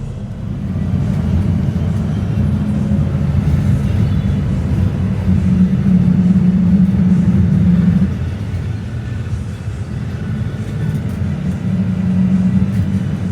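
A bus engine drones steadily through a ride on a winding road, a loud, continuous low rumble that swells slightly midway and holds with no talk over it.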